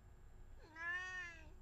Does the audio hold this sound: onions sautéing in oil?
no